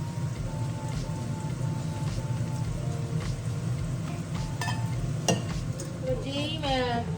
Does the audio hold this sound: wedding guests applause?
no